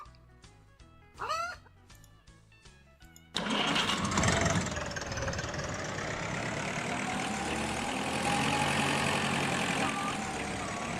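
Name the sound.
Massey tractor engine, video game Agricultural Simulator 2013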